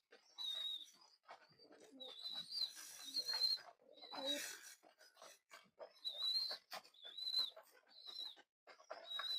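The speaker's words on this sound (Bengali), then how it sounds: "এগুলো সব দেশি কবুতর।" Local domestic pigeons on a hobby farm coo repeatedly while jostling and fighting over food, with overlapping close calls, wing flutters and scuffling in bursts.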